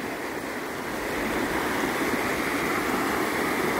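A fast-flowing stream rushes over bare rocks below a bend, a close, dense and steady watery roar that swells slightly, with no voices.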